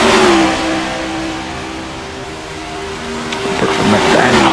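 Stock car engines in a Daytona racing video game roar and rev in a loud, continuous droning pack, the pitch rising and shifting near the end, with no talking.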